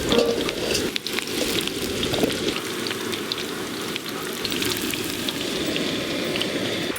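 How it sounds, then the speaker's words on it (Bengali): Potatoes fry in hot oil in a home kitchen, a steady, dense crackling sizzle that runs close and unbroken throughout, with no talking. "আলুগুলো লাল লাল করে ভেজে নিয়ে নিয়েছি"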